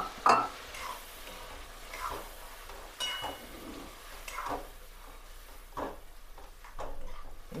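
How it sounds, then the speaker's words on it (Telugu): Boiled dal is stirred into sambar in a pan, giving soft scraping strokes and light clinks that come at irregular intervals over a low, faint simmer. "ఇలా మగ్గినాక ఉడికించిన పప్పునైతే యాడ్ చేసేస్తున్నాను."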